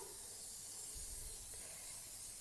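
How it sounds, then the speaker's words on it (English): Cooking spray hisses onto a quiche or pie plate in a quiet kitchen, a faint, steady aerosol spray lasting a couple of seconds with a soft low thump partway through. "I'm just going to spray my little quiche plate, pie plate, whatever you've got at home to use"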